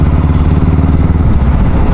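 A motorcycle engine idles loudly and close by, a steady, throbbing low rumble with a continuous mechanical clatter and no talking over it.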